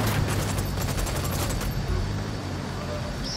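Rapid automatic fire from an armored vehicle in Ghost Recon Wildlands hammers loudly for a couple of seconds, close and continuous over a heavy rumble, then stops.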